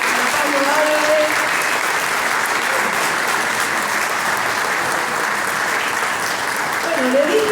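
A congress audience at the 8th International Ufology Congress gives Pablo Álvarez a loud, sustained round of applause, with dense steady clapping filling the room from start to finish.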